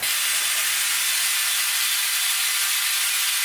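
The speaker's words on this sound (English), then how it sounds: "That's my compressor, decompressing itself." An air compressor releases its pressure in a steady, loud broadband hiss of escaping air that holds unchanged for the whole stretch, close by and alone with no voices.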